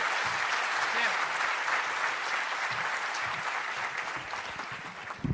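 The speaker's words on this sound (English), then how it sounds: "one more round of applause for all of the nominees and honorees today" Sustained audience applause fills an awards ceremony hall, a dense, steady wash of clapping that gradually thins toward the end, with a few scattered voices mixed in.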